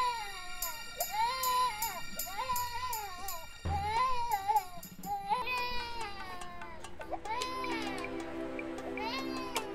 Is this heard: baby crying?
yes